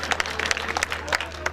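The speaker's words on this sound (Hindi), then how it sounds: "एक बार जोरदार ताली बजाए भाई के लिए" An audience at an Indian Urdu poetry mushaira breaks into brisk applause, with scattered sharp claps over a low hum and faint crowd murmur.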